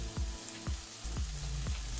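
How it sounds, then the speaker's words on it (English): Ackee and saltfish sizzling in a pot while being stirred, a soft frying hiss with several quick scraping sweeps of the spoon at a regular rhythm, faint and close. "I'm going to give it a stir now so you can see."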